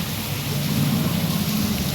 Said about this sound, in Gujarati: વરસાદ વરસાદ વરસાદ ફૂલ વરસાદ